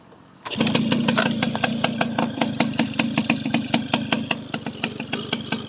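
A Yamaha Bell 100 motorcycle engine starts with a sudden roar, then settles into a steady, loud, rhythmic putter as it idles nearby.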